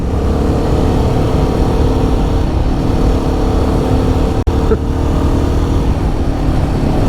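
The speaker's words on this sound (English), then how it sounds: "The throttle response is definitely sharpened up." A Royal Enfield Guerrilla 450 motorcycle in performance mode accelerates with a loud, continuous engine drone under wind rush, broken by a brief sharp click midway.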